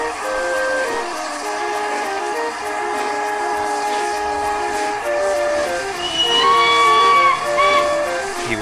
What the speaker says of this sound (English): Then the driver pulled the lever and Edward puffed away.